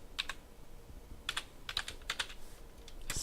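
Keys clatter on a computer keyboard in several short bursts of typing, separated by brief pauses, close and moderately quiet with no talking.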